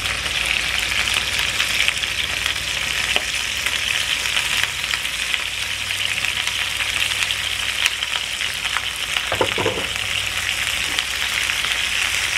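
Poblano chiles frying in a pan over medium heat give a steady, close sizzle throughout, with a few brief clinks and scrapes from stirring partway through.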